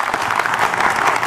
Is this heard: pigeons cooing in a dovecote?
no